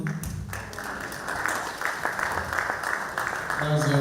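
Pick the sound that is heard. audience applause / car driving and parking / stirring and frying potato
audience applause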